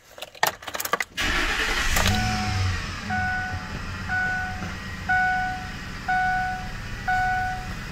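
A 2005 Ford F150 crew cab pickup engine cranks with a brief burst of starter noise, catches, and settles into a steady idle, while repeated electronic warning chimes sound at regular intervals over the running engine.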